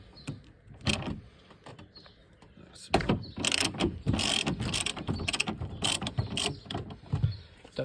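A 10 mm socket ratchet loosens bolts on the window regulator inside the door of a Volvo V50/S40/C30, close, with bursts of ratcheting clicks and metallic mechanism sounds spread over several seconds.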